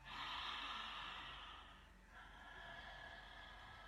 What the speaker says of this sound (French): Vous faites la respiration qui s'appelle Ujjayi.